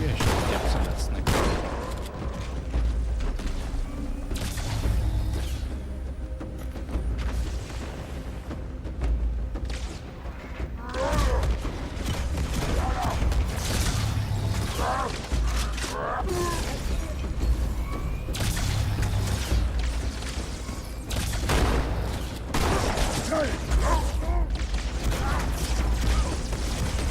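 Dense, continuous gunfire and explosions from the video game Halo 2, with rapid bursts, booms and mechanical clatter filling the mix, while a person talks over it intermittently.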